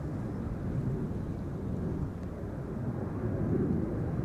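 Embraer 190 jet rolling for takeoff on Schiphol's Polderbaan runway 36L, a steady, broad low roar holding at even loudness for a few seconds, heard from a distance with no voices.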